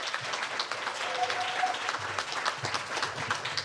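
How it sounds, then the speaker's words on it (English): An audience at an art panel discussion applauds in a soft, continuous patter of many hands, fairly distant and even throughout, with no clear speech on top. "make a round of applause please for Miss Edna Evans."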